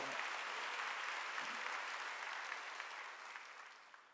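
Applause from a church congregation at a Wednesday worship service, a steady wash of many hands clapping that fades gradually toward the end, with no talk over it.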